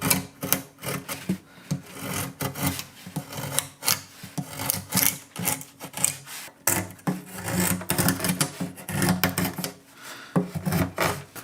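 Rhythmic rasping strokes of a chisel paring wood on an acoustic guitar build, close and steady with repeated scraping passes and brief pauses.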